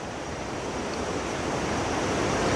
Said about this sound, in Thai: ทางเดินเรากลายเป็นลำธารเรียบร้อยแล้วครับ